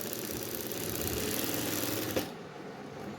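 A sewing machine runs steadily, stitching along the folded hem of a lungi, its motor whirring continuously before stopping abruptly with a brief clunk, leaving near silence.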